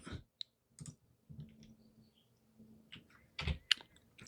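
Computer mouse clicks while working in SketchUp modeling software, a few quiet separated clicks and a brief louder double click near the end, with no talking.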